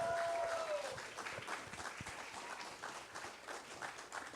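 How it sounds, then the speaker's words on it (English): Audience applause at a performing arts showcase for the Columbus Saints Drumline, fairly faint and distant, with a brief tonal sound at the start and scattered claps continuing throughout. "A round of applause, please."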